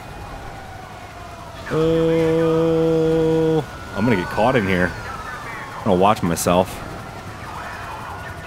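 Police sirens in GTA with the LSPDFR mod during a bus chase: a long steady wail followed by several rapid warbling yelps, loud and close, with someone talking over them.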